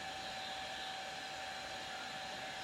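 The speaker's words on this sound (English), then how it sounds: "I'm going to print it to my 3D printer" A desktop 3D printer runs while printing a silver nameplate design, giving a steady, even whirring hum of fans and motors with a faint constant tone, unbroken and close, and no talk.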